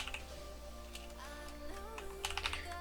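Quiet keyboard typing with scattered soft key clicks over a low steady hum, a few slightly louder taps near the end.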